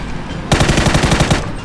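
Rapid automatic gunfire from the video game PUBG, a dense burst of about a dozen shots lasting roughly a second, loud and close after a short quiet lead-in.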